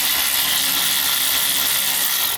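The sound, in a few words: electric ratchet loosening caliper pin on BMW 335i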